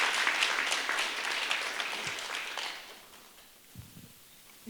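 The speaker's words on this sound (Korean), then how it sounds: "큰 박수로 모시겠습니다." Applause from an audience at a relay talk event in Daejeon welcoming a center director to speak, dense and steady at first, then thinning out and fading over the last seconds.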